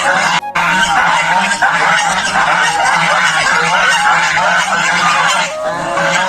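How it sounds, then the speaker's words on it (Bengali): A flock of geese, led out of the water by their owner at a village market, honks loudly and continuously at close range. The overlapping calls run without a break for the whole stretch. "পরে হাঁসের মালিক চাচা হাঁসগুলোকে পানি থেকে উঠে নিয়ে আসলো।"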